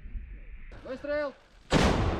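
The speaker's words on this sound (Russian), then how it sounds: "Выстрел!" After a brief shouted Russian order, "Fire!", a single loud Msta-B howitzer blast erupts close up, cutting off abruptly at the end.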